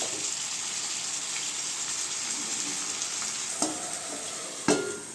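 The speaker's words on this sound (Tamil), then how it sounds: "நல்லா கிண்டி விட்டுருங்க" Pepper chicken sizzles steadily in a pan while being stirred, a constant close frying hiss with a couple of sharp clinks from the spoon near the end, and no voices.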